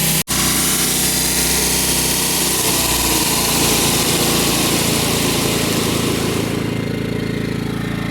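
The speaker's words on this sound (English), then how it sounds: "Generator test successful." A portable generator with eco throttle engaged runs at 3,800 RPM, giving a loud, continuous, close engine drone with a bright buzzing edge after a brief knock at the start.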